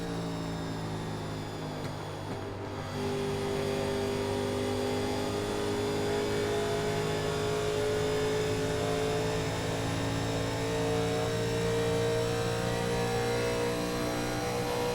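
Legends race cars run at Las Vegas in iRacing NASCAR, a steady, loud engine drone that briefly dips before climbing back and holding high revs. Several cars are audible together and no one speaks.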